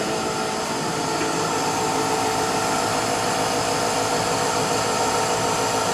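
Torch flame roaring steadily while an electrode is welded onto a neon glass tube, a loud, constant broadband hiss with no breaks, close by and alone.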